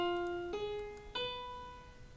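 A sustained keyboard-like chord rings out, then shifts twice with fresh attacks around half a second and just over a second, each voicing held and slowly fading, clear and close with no talking.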